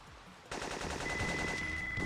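Rapid automatic gunfire in the Syphon Filter video game, a dense string of shots starting abruptly and continuing steadily for over a second, with a thin high electronic tone running alongside.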